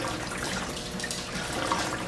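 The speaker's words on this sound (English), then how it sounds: "Water runs. See the water running?" Water runs steadily through the overflow of a 77-gallon saltwater aquarium with a sump, a constant, fairly close splashing wash that holds level without pause or talk.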